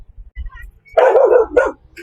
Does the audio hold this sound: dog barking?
yes